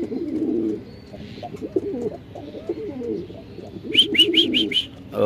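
Male Lahori pigeon cooing up close in a series of low rolling, throaty coos, with other birds chirping briefly in the background near the end.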